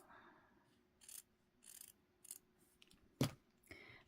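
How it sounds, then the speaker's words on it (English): Scissors snip lace appliqué off a store-bought card in several short, crisp cuts spaced irregularly, with one louder snap near the end, close up and quiet against a faint steady hum. "Instead, I'm gonna go cut it off in the center."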